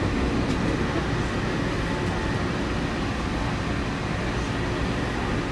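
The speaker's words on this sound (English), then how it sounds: "So now we have to go get on the express monorail." Steady, broad rumble from inside the express monorail train at Walt Disney World, an even rolling drone with no clear breaks and no talking.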